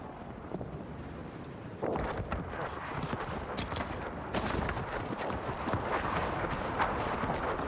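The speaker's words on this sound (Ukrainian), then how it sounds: "Я там бачу, стріляють." Dense, continuous bursts of distant gunfire and booming blasts in the video game Battlefield 6 REDSEC crackle over a rumbling, wind-like background, with no clear pauses.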